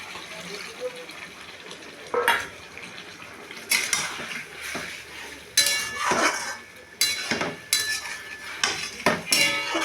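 Pointed gourd curry is stirred and fried in a pan, with a soft sizzle under repeated metallic scrapes and clanks of a spoon against the pan, close by, while a person talks intermittently.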